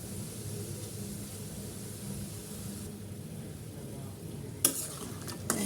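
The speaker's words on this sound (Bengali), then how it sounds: "একটু শক্ত শক্ত করে ভেজে নিতে হবে।" Flour dough pieces for khurma frying slowly in oil over moderate heat, a steady soft sizzle throughout, with a couple of sharp clinks near the end.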